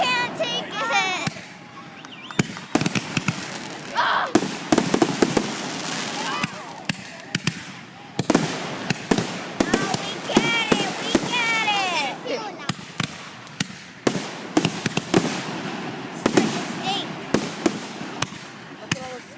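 Backyard fireworks show with repeated sharp, loud cracks and bangs arriving in irregular bursts, mixed with excited voices and chatter of people watching nearby.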